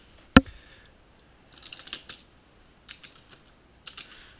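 A name being typed on a computer keyboard while saving a dot gain curve for an M&R I-Image screen printing system: a sharp click, then several short clusters of quick, close keystrokes separated by pauses, with no talking.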